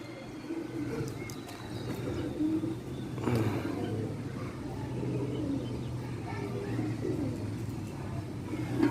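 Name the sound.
pigeons cooing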